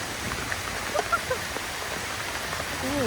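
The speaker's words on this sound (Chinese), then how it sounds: "就开始下起了大雨。" Heavy rain pours steadily over a garden near a Japanese-style restroom hut at Chanticleer Garden, a dense, even hiss lasting throughout, with a few faint bird-like chirps and brief sounds layered on top.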